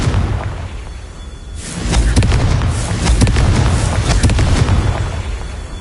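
A Confringo fire spell goes off in Hogwarts Legacy as a loud, close explosive burst that swells into a sustained roaring blast lasting several seconds, with crackling detonations inside it.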